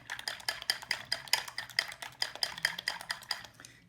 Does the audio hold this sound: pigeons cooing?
no